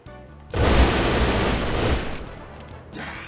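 Revolver rapid-fire glitch in GTA 5, with a dense, loud burst of gunfire that merges into a continuous roar for over a second, then fades, followed by another shorter burst.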